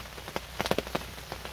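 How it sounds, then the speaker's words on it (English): Rain pattering on a hunting ground blind during an afternoon deer hunt in New York, with soft irregular drops tapping close by over a steady quiet hiss. "and it is raining"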